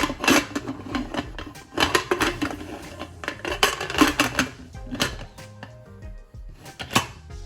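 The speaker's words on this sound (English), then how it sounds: "we are gonna cover this up in a pressure cooker" Metal pressure cooker lid clanking and rattling as it is fitted and locked over a pot of Jamaican cow foot and beans, a run of close, sharp clacks and scrapes in irregular bursts.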